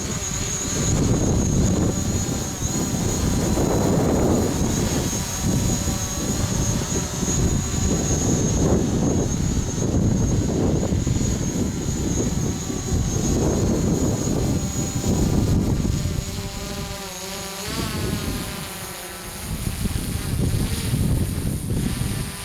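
A camera drone flies outdoors in gusty wind, giving a steady high-pitched buzzing whine over rumbling wind buffeting on the microphone; the motor pitch wavers and shifts near the end, with no voices.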